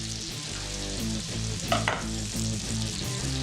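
Fish frying in a pan gives a steady, close sizzle and crackle throughout, with a brief brighter spatter burst midway and no voices.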